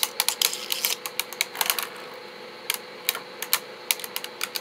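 Beyblade spinning tops clash in a stadium battle, with rapid sharp clicking impacts in irregular bursts, close and fairly loud, with no talk.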